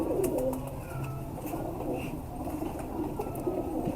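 Pigeons, a breeding pair shown off by a fancier, coo softly with repeated low throaty calls over a busy room murmur, some faint chirps and clicks scattered through.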